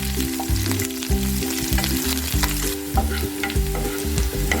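Ingredients for egg chilli sizzle loudly in a hot oiled pan, close up, with steady frying hiss and rhythmic stirring scrapes and no talking.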